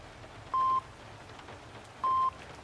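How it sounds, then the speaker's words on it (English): A hospital patient monitor in the video game Moral Retrograde gives two identical clean electronic beeps about one and a half seconds apart, steady and evenly pitched over a quiet, faintly noisy room. "save for the rhythmic beeping coming from the monitor"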